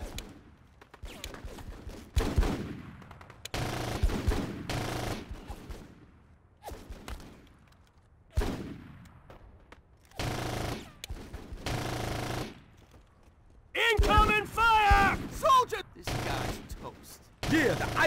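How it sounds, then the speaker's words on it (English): Gunfire in the Full Spectrum Warrior video game, with rapid bursts of automatic weapons and single shots in uneven volleys, while voices shout over the shooting. "Soldiers, fire!"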